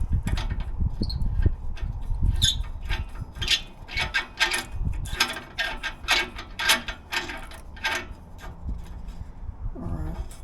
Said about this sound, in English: we're gonna tighten this nut here